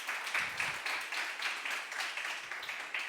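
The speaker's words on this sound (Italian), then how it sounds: "Caloroso applauso per loro" An audience gives warm applause for two workshop presenters at a Sardinian Day event, a fairly faint but continuous patter of many hands clapping with uneven, rippling bursts throughout.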